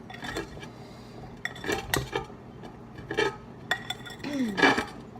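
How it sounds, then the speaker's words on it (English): Seasoned food being mixed in a bowl during meal prep, with irregular clinks and scrapes of utensils against dishware in short bursts, close by, plus a brief faint vocal sound near the end. "And then I just mix them all up."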